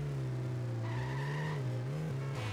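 A fast car in the video game GTA Simpsons drives with a sustained engine drone that shifts pitch as it moves, with tires skidding and squealing under the motor; no voices.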